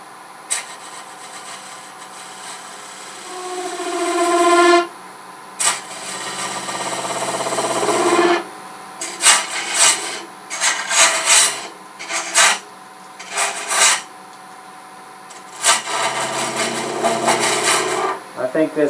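A carbide lathe tool cuts and scrapes Corian on a wood lathe, working inside a curve. It makes loud bursts of rough rasping, several long passes and then shorter choppy cuts, with pauses between them.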